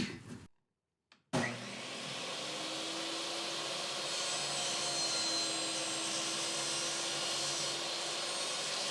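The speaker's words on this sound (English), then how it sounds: "What we're going to do is run it through the table saw real quick." A table saw whines steadily as it cuts a board clamped in a Hercules miter gauge, starting after a brief thump and a moment of quiet, then holding a loud, even drone to the end.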